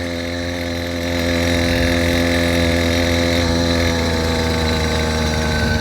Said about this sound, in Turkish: Tam gaz vermiyorum bu arada şu anda motora.